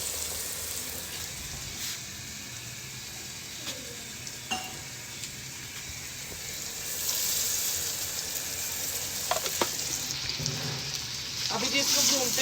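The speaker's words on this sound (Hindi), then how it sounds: "अभी जी इसको भूनते हैं" Onions frying in a pan with green chilli, garlic and ginger paste, a steady dense sizzle with occasional spoon scrapes and clinks, growing a little louder toward the end, no voices.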